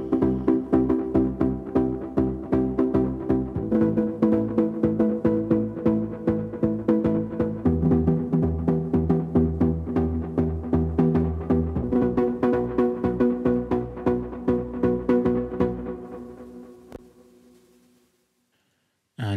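Synth chord sound from an FL Studio 3x Osc patch layering saw and square waves: dense rhythmic chord stabs changing every few seconds, loud and alone, thinning out and fading near the end.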